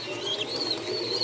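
Pigeons in a loft coo softly and steadily at close range, a low murmuring hum with faint higher chirps over it.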